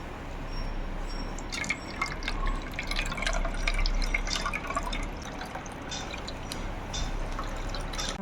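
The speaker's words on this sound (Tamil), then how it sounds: "ஃப்ரெண்ட்ஸ், ஒரு கிளாத் வச்சுட்டு நல்லா வடிகட்டிக்கோங்க" Water and ground fennel seed paste strained through a cloth for a sweet saunf drink, running in a steady trickle with quick drips and splashes, close by and continuous.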